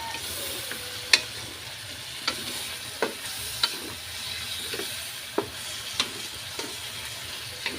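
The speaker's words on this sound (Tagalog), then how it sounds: "Sarsa. Saka toyo. Haluin lang po natin." Sauce and soy sauce are stirred in a pan over a low, steady sizzle, with sharp periodic taps and scrapes of a utensil against the pan at a fairly regular pace.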